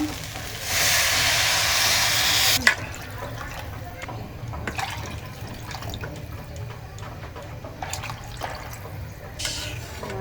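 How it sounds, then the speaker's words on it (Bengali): Water is poured into a pot of lightly fried rice and mung dal for khichuri, a steady rushing pour lasting about two seconds, followed by quieter clinks and kitchen movement. "এখন আমি দিয়ে দিব ঝোল আমি পানিটা দিয়ে দিব"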